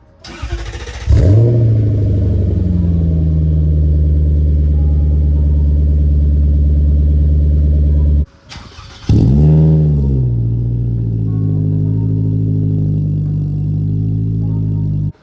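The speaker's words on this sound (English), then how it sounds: "That slight kind of like ticking noise in the exhaust note. It might sound normal to some of you, maybe your chassis are different, but for me, that's an exhaust leak." A Scion tC engine with an exhaust leak starts and idles loudly up close, a steady low rumble with a faint ticking in the exhaust note, cut off briefly before restarting and settling back to idle.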